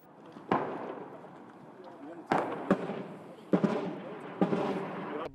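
Artillery and mortar barrage pounding a city, heard as a series of sharp, heavy blasts, roughly four, each with a rumbling tail. The impacts land at uneven intervals over a constant background.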